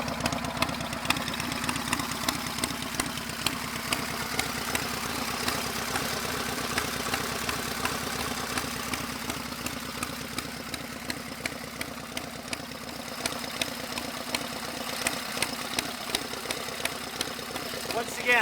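A 1929 Harley-Davidson motorcycle engine idles steadily after a kickstart, a rapid, even chugging that stays close and loud throughout.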